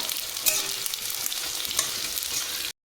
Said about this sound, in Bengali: মশলাগুলো ভেজে নেব।